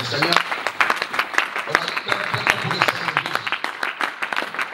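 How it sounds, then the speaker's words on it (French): A church congregation claps loudly for the Lord, a dense, steady burst of applause with voices calling out over it. "On acclame très fort pour le Seigneur."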